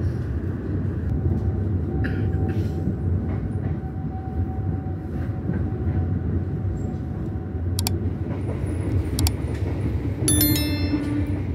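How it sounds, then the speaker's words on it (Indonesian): The Tegal Bahari train departs Pasar Senen station in Jakarta, heard from inside a carriage as a steady low rolling rumble with faint clicks and squeaks, and a brief burst of higher clatter near the end. "kereta api Tegal Bahari berangkat dari stasiun Pasar Senen"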